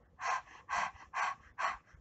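A voice imitates the panting of someone who has just run a race: four short, breathy exhalations, evenly spaced, close and clear.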